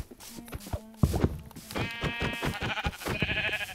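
Sheep in the Minecraft video game bleating several times, with wavering nasal cries layered together, loud and close and heard over soft background sounds.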